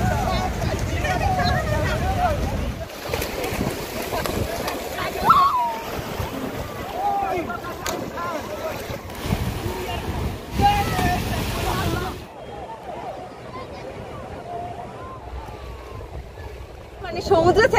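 Sea water sloshing and splashing at Bakkhali beach, steady wash of surf with occasional louder splashes as someone wades in, a voice talking over it through much of the stretch.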